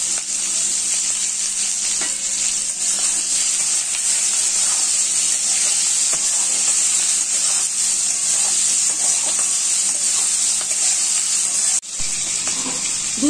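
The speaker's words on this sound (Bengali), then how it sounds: "দু 3 মিনিট মতন আমি পেঁয়াজ দিয়ে আলু দিয়ে ভেজে নিয়েছি।" Potatoes and onions fry with turmeric and salt in a pan for a Bengali side dish, giving a loud, steady sizzle that runs throughout with faint stirring scrapes and a brief dip near the end.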